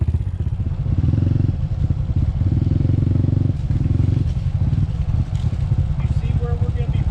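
A Honda CT 125 motorcycle on a trail: a loud, steady engine drone with rhythmic pulsing, under a voice talking throughout.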